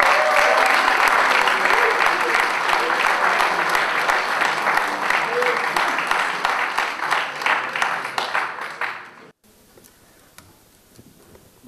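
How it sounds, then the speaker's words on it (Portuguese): An audience at an athletics and adapted sports gala claps steadily, a dense applause that thins to sparse individual claps and fades out near the end, followed by a quiet room. "Uma salva de palmas também."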